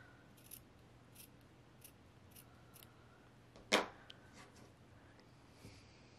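One crisp scissors snip cuts through fabric binding on a quilted mug rug, a single sharp close cut standing alone over quiet room noise with a few faint rustles around it.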